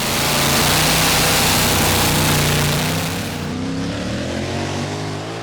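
A pulling truck powered by a Chevy 572 engine roars loud and close at a tractor pull, a sustained full-throttle drone that eases slightly as the run goes on.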